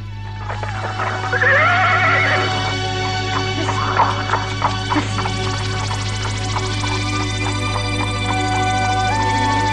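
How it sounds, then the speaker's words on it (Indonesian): A horse neighs loudly and hooves clip-clop in an Indonesian audio drama, with a long whinny early on, then steady hoof steps over a constant low hum. "Oh, sebaiknya aku tidak memacu kuda."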